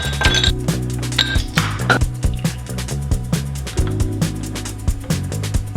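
Glasses clink together in a toast over sipped beverages in a home living room, a run of bright ringing chinks repeated in a steady rhythm, close and fairly loud with no talking.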